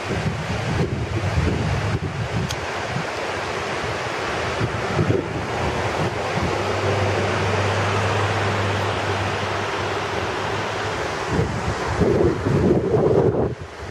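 Mountain water rushing down near Silverton, Colorado, heard as a steady, loud broadband roar throughout, with wind buffeting the microphone and a low hum through the middle.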